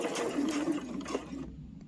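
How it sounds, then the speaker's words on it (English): A sewing machine stitching fabric for a layer-cake pouch, a short burst of fast rhythmic whirring close up that stops abruptly near the end, no talking. "we're going to stitch right down to the edge"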